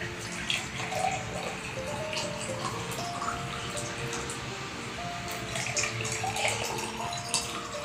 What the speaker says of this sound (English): First, take the glasses and pour the water.